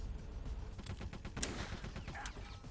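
Gunfire in the video game Metal Gear Solid: The Twin Snakes, a quick burst of sharp shots and impacts mixed with game effects over a steady background, with no talking.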